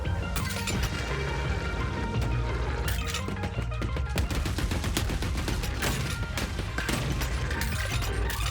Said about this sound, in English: We got our old machine gun back